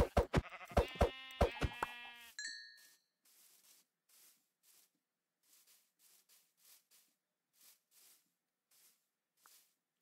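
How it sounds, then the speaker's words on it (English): A sheep bleats a few times in quick succession in Minecraft Java Edition, followed by a chime and a stretch of faint, scattered soft rustling sounds. "A white sheep."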